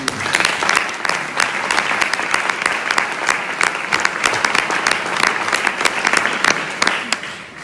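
An audience at a commemoration day event in Sulzbach applauds the guests: a dense, loud, sustained round of clapping from many hands that lasts several seconds without a break.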